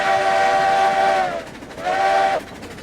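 A train in the video game RailRoads Online, heard as two tonal whistle blasts, the first long and the second shorter and cut off sharply, loud and close over a low running rumble.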